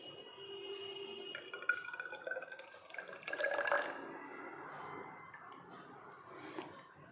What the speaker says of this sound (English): I am immersing this object in water.